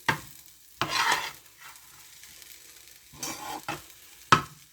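Vegetable fried rice being stirred in a frying pan, with bursts of scraping and sizzling as the spoon turns the rice, four or five uneven strokes close by with a soft sizzle between them.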